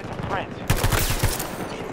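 Rapid bursts of automatic fire from the VHX gun in a shooter video game, a string of close, punchy shots starting partway through with a short pause before the rhythm resumes.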